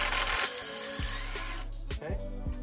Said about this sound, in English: So when I'm drilling down, I know I'm drilling the hole pretty straight.